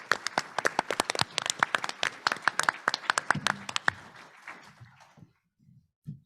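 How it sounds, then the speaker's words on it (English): Audience at an annual economic summit applauding board members, a dense burst of many hands clapping that fades out over several seconds, with a few light sounds after. "I want to give them a round of applause"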